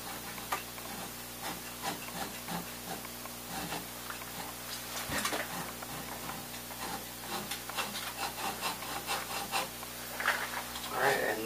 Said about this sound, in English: Looks like it's rubbing against the top plate a little bit.